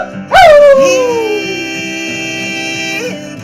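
A dog named as a good coon-hunting hound gives a loud, close whine that slides downward and then settles into a sustained, wavering whimper or howl, heard on its own without talk.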